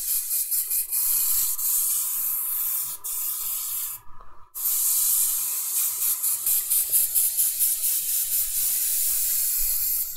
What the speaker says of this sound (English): I'm trying to get rid of this darker color that's in the airbrush.